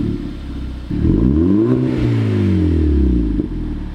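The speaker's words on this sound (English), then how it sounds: "I think it's got a res delete in it because it does sound a bit fruity." Car with a resonator-deleted exhaust on a track car, a loud close rev that climbs sharply in pitch, holds high and rasping, then drops back, with a slightly fruity burble.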